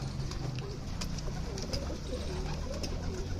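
Pigeons kept in a coop, likely Gola pigeons, coo and call steadily amid a busy outdoor background of rustling and distant noise, with no pause across the few seconds.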